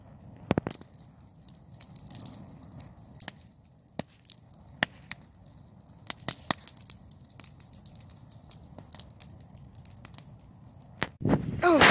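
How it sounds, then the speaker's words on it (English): Sharp, irregular snaps and pops of sap crackle in an outdoor bonfire over a low, steady fire rumble, some loud and close, with faint voices nearby. "I just love that sound of the sap snapping."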